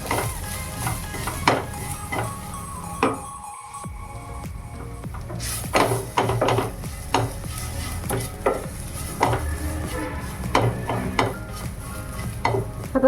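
Soya chunks roast with chicken masala being stirred in a frying pan, a steady close sizzle with scraping spoon strokes and occasional clanks against the pan, no talk.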